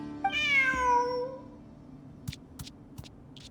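A cat in Genshin Impact gives one clear, drawn-out meow up close, followed by quiet background and a few soft clicks.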